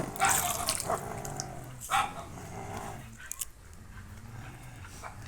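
Water runs steadily into a built tank in a mango orchard, a continuous close hiss and splash, with a dog barking a few times nearby over it.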